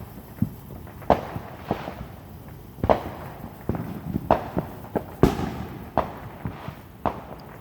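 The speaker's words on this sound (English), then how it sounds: "All those big pops you're hearing are just down the street, but the trees are so thick you just can't see." Fireworks burst a little way down the street behind thick trees, a scattered run of muffled pops and booms at irregular intervals, moderately distant and fairly faint.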